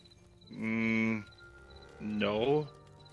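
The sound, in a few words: cow mooing in video game Mortal Online 2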